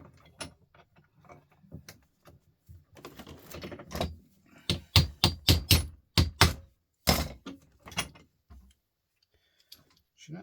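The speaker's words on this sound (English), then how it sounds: "Get my little hammer and see can I tip it out of it some way" A small hammer taps on brass gas torch parts in sharp, irregular metallic strikes, quick clusters building to a dense run of loud close knocks before trailing off into scattered lighter taps.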